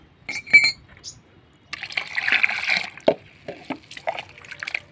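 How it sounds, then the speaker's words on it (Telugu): Turmeric is stirred into water for sprinkling over terrace-garden plants, with scattered clinks, splashes and swishing liquid in a container, brief pauses between bursts of stirring. "పసుపు ఇలా వేసి ఇలా బాగా కలిపేసి మొక్కలకి అంతా పైన చిలకరించేద్దాం"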